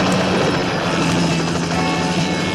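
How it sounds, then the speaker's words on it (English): Helicopter passing overhead in a 1977 James Bond film action scene, a loud, dense rotor roar that stays steady and close throughout with no talk. "the way the helicopter just came over"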